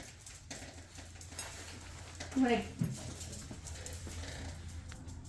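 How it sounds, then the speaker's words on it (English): A stray cat in a garage gives a brief tense growl with a rising hiss at close range, set against low background hum; dogs are present nearby, and the outburst stands alone without talk over it. "the dogs ran out in the garage, and now I got a stray cat in here again that's upset, and she's growling and hissing"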